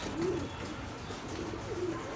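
Soft, low cooing of pet pigeons kept indoors, a paired male and female, with two or three short rolling coos heard fairly close and quiet against a light room background.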